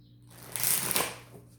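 A deck of tarot cards is shuffled once, a brief riffling flutter that swells and fades, close and fairly quiet.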